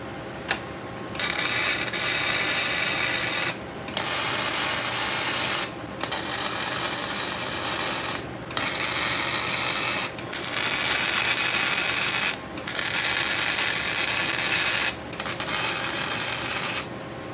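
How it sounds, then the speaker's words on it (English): Tack welding a truss onto a Dana 60 axle, a steady crackling, hissing arc sizzle in loud bursts of about two seconds each, separated by short pauses, with no talking. "I'm going to go ahead and tack them on the outside, then flip this over and weld them on the inside."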